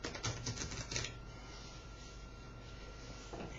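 Two packets of playing cards riffled together, a quick burst of crisp fluttering clicks in the first second, then a softer rustle and faint handling noise.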